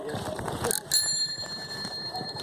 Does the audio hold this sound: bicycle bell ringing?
yes